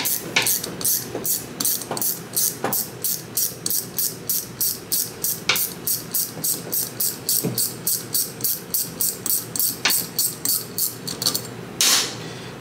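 Wrench backing a stud out of a Predator 212 engine head using two nuts locked together, a steady run of quick, close ratcheting clicks in even bursts, fairly quiet, with a louder knock near the end.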